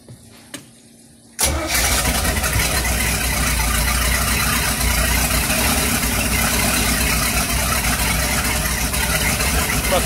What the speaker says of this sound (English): Time to fire this thing up. This is the Vortec heads on the 260.